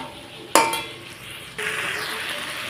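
A metal utensil clinks sharply against a pan while Puti fish chorchori with coriander leaves cooks, followed by a steady frying sizzle and soft scraping from stirring.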